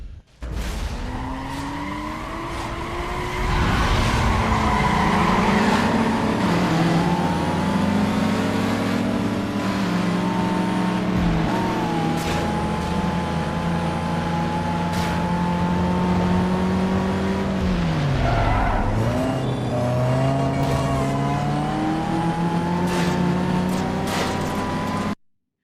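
Cars in a racing video game, played on Garuda Linux, rev steadily with rising and falling engine whine, gear shifts and long tire skids, loud and continuous for the full run with no talk.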